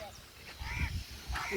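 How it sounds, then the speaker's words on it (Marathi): A crow perched in a garden tree gives a few harsh, close caws in short bursts, with a low rumble of outdoor background beneath them. "हे बघा इथं झाडावर आहे कावळा मस्त आवाज येत आहे"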